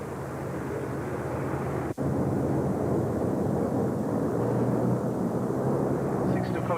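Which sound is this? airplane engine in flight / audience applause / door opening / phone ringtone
airplane engine in flight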